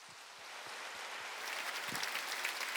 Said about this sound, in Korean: 하나님께 우리 박수겠습니다.